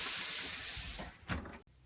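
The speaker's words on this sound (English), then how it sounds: "Don't worry about the sizzling sound, just water." Water sizzles and hisses off soaked cake strips wrapped around cake pans as they go into a hot oven, a steady broad hiss with a brief louder flare near the end before it cuts off; no one talks.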